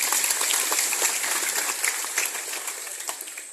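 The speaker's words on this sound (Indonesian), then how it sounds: "Tepuk tangan yang meriah untuk semua." An audience claps at a speech for the Tunas Timur school foundation, a bright crowd applause that carries on evenly and fades slightly toward the end, with no voices over it.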